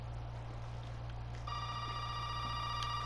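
Telephone ringing in the Resident Evil 7 demo: after a quiet low hum, a bright electronic ring starts and holds steadily, fairly close over the background drone.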